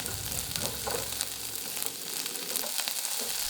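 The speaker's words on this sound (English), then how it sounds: "Stir-fry the chopped long onion until it changes color slightly." Chopped long onion stir-fries in vegetable oil in a pan with a close, steady sizzle and crackle, broken by occasional scraping stirs, and no voices.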